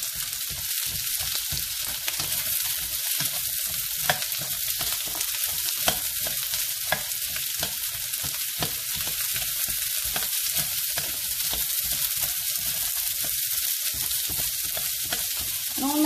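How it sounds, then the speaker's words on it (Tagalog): Onions sauté in a hot pan with a steady, loud sizzle and crackle, with faint scrapes of stirring now and then. "And then yung sibuyas or onion. Isokay lang natin to ha."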